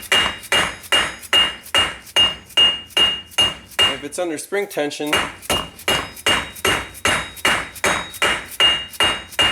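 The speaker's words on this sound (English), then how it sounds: "we're just banging on this plate with a plastic hammer" A plastic hammer bangs steadily on a plate from a Nissan CVT transmission during a teardown, about twenty loud, evenly spaced metallic knocks, pausing briefly while someone speaks before the rhythmic pounding resumes.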